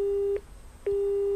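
A telephone busy tone sounds right after a call is cut off: steady, clear beeps of about a third of a second each, separated by short gaps, repeating alone without talk.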